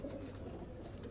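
A Kamagar pigeon in a loft gives soft low cooing, a short murmuring coo heard close and faint.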